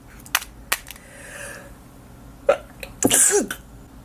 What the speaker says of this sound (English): Excuse me, it's early in the morning, I had to sneeze.